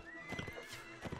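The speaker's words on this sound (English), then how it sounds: "I knocked him unconscious because I trampled him with the horse" Horse in Mount & Blade: Warband battle whinnies and gallops, a short burst of neighing over clip-clop hoofbeats amid game combat noise, fairly quiet.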